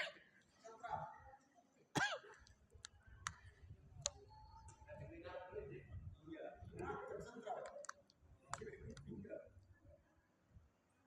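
A man with a lingering cough coughs sharply several times in a reverberant hall during a religious lecture, the harsh bursts scattered through ongoing speech.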